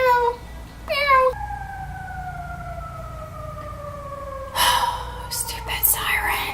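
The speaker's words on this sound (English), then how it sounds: "Stupid sirens." An ambulance siren wails with a long falling tone, faded against traffic noise, and people speak briefly near the start and end.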